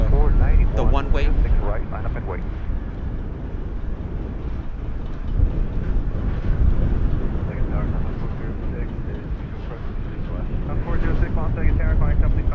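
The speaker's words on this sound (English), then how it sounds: "we have a Southwest flight inching away towards the runway" Southwest airliner taxiing toward the runway at Las Vegas airport, a steady low jet engine rumble with a faint high whine, heard from outside at a distance under a talking voice.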